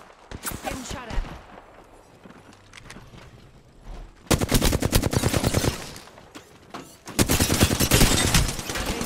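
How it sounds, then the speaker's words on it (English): Sustained automatic gunfire in a shooter video game, dense rattling bursts that swell and break off twice, loud and close, with someone talking over the quieter stretches. "Getting shot at."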